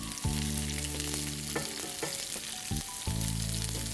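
Sliced onion fries in a pan with a continuous, fairly loud sizzle. Now and then a brief clatter of stirring breaks in, with no voices.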